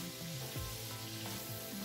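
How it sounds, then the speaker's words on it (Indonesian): Tofu and tempeh fry in hot oil, giving a steady close sizzle with crackling spatters throughout and faint tonal hum beneath. "saya goreng terlebih dahulu tahu dan tempenya"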